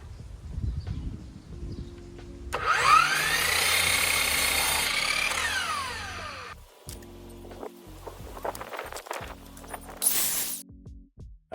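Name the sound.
cutting wooden door trim boards to length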